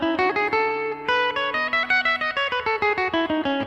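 Electric guitar playing a quick surf-rock lick in the major scale, a run of bright picked notes that accelerates into rapid, evenly spaced attacks, solo and close.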